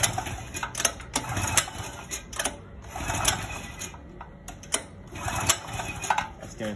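Gasoline generator failing to start: repeated sharp, rattling pull-start or cranking bursts in an irregular rhythm, close and moderately loud, never catching into a steady run, with no talk over it.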